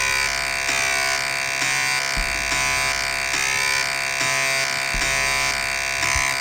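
A slot machine in the original Fallout game spins with a steady buzzing electronic whir and repeating mechanical clicks, loud and continuous with periodic low thumps as the reels turn and stop.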